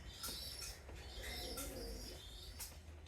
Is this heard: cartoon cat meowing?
no